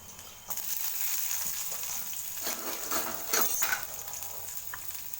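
Onion sautés in hot oil with ginger and green chili, a continuous close sizzle broken by scraping stirs and the occasional clink of a utensil against the pan.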